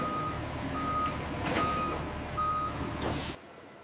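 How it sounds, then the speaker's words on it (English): Trucks arriving at a banana soap factory, one reversing with a steady run of loud electronic backup beeps over a diesel engine idle, with short bursts of air brake hiss near the end before it cuts off. "Logistics teams coordinate the arrival of trucks to take the soap to market"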